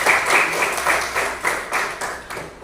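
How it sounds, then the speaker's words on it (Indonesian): Classroom applause from students after a teacher's prompt, a steady patter of many hands clapping at moderate level for a couple of seconds. "kasih tepuk tangan dulu untuk mereka yang juga"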